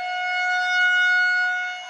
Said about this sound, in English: As you can hear, the sirens are going off.